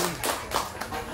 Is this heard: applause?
yes